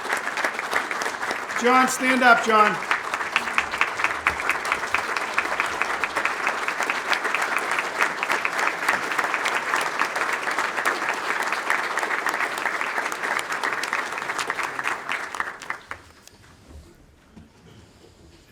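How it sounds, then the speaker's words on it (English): A breakfast forum crowd gives sustained loud applause for about fifteen seconds before it tapers off, with a voice briefly calling out near the start. "I want a round of applause and a standing ovation for John Visconti from Lee Kennedy Company"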